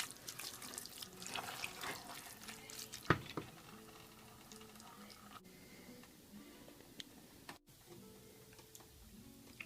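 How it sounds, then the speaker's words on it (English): Half a cup of lukewarm water is poured into a cooking mixture, giving a steady, close splashing trickle. One sharp knock lands partway through, and the pour is followed by quieter stirring. "then we will add half cup of warm water"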